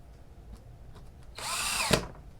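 Power drill driving a screw into a wooden table saw sled jig, a brief faint tap and then a rising whir of about half a second ending in a sharp clunk, close and alone.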